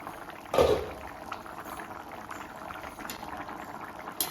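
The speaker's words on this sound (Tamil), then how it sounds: "நல்லா அப்படியே தள தள தள தளன்னு கொதிக்குது பாருங்க" A pot of chow chow curry boiling and bubbling close by, a soft steady simmer with a louder burst of bubbling near the start.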